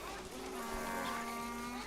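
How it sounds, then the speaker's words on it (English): Cattle low on a farm in the strategy game Ara: History Untold, a sustained, faint, tonal moo from several cows together, held steadily over a soft ambient background. "Oh, they're mooing in unison."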